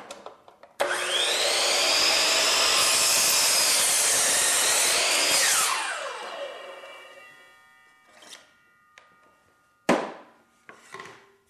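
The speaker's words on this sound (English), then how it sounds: "I'm going to take this saw and I'm going to flip it to the left. I'm going to cut really just an outside corner on this end of the board." Miter saw whining up and cutting an outside corner on the end of a wooden board, a loud sustained blade roar that spins down, followed by a few clunks and a sharp knock.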